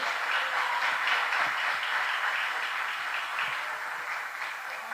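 A church congregation applauds during an Easter sermon, producing a steady, dense wash of many hands clapping together that holds at an even level without pause.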